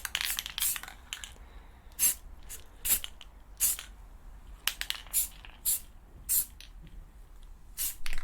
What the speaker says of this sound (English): Don't go too heavy on this, just light sprays.